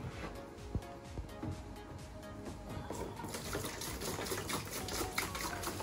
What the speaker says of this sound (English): So we'll pour in some nice fresh salt water